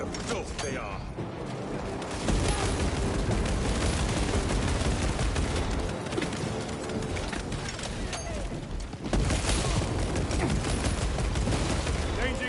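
Gunfire in Space Marine 2, heavy sustained bursts of weapon fire and mechanical clatter, loud and dense for most of the stretch, with a voice talking over it.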